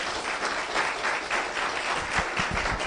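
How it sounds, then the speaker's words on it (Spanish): A church congregation applauds loudly, a sustained roar of many hands that holds steady, with a few heavier low thumps near the end. "Dale un aplauso fuerte a Jesús, Señor."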